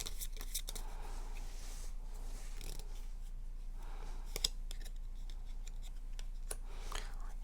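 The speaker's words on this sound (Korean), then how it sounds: "조언 카드 뽑아볼게요." Tarot cards are shuffled and drawn in quiet, scattered clicks and soft slides, with light card snaps spread across several seconds over a low steady hum.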